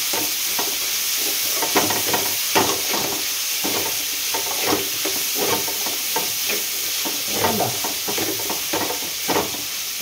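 Vegetables with asafoetida fry in a pan, a constant close sizzle under repeated scraping stirs that come in an uneven rhythm, with no voices.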